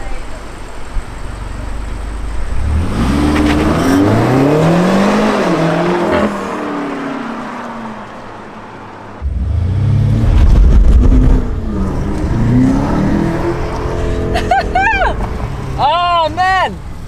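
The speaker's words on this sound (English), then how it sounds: "We got the spinning tires that time." A BMW M8 launches hard from close by with spinning tires, the engine climbing through rising, surging revs, then a second hard run with squealing tires, and voices exclaim near the end.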